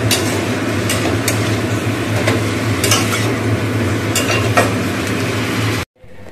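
Chorchori, a Bengali mixed vegetable curry, stirred and frying in a pan, with a steady close sizzle and scraping spatula strokes, ending abruptly.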